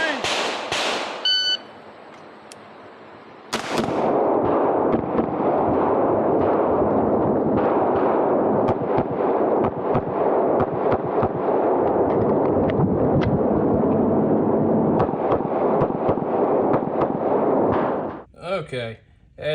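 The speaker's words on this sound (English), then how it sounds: "it's a real fun gun to shoot in IDPA" A Bul Armory SAS TAC 4.25 pistol fired on an IDPA course, a start beep followed by a long, dense run of loud, close shots with short pauses, closing on sharper reports.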